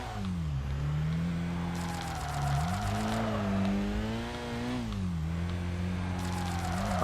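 A Nissan Pulsar drifting in Tokyo Xtreme Racer Drift 2: a steady, close engine drone that rises and falls as the revs swing up and down, with tyre noise under it throughout.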